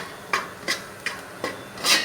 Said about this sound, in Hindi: इसे हम अच्छे से मिक्स कर लेंगे।